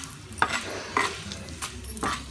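Tamarind is sautéed in a pan as a utensil stirs it, with about four distinct scraping knocks over a soft, continuous sizzle, close by and with no voices.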